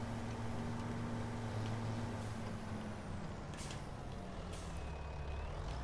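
A tractor engine labours up a hill in the Farming Simulator video game, with a steady low droning rumble and a faint whining tone, held constant without speech.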